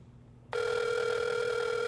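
A telephone ringback tone sounds on an outgoing call, beginning abruptly after a quiet moment and holding as a steady, loud tone with no talking.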